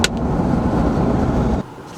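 A steady, loud engine roar with a whooshing turbo hiss that drops off abruptly near the end, leaving a lower idle rumble.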